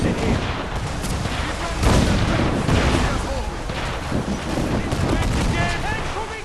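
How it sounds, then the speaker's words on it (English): Naval cannon and gunfire during a sea battle against galleons in Assassin's Creed 4: Black Flag, a dense, loud roar of booming cannon shots and crackling gunfire that builds in waves. "Incoming fire!"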